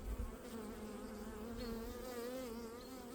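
Honey bees in a small three-frame colony give a soft, steady, close buzz with wavering pitches as individual bees fly past, and no voices.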